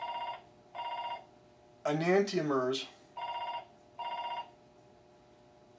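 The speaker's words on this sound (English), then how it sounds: "phone always waits till I have a video." A telephone rings in four evenly spaced bursts of a harmonic electronic tone, close and moderately loud, with a person speaking briefly in the gap between the second and third rings.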